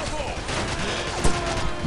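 Dense, steady gunfire crackle from a machine gun in the Call of Duty 4: Modern Warfare campaign mission raiding a Russian ship depot, loud and unbroken, with one sharper crack near the end.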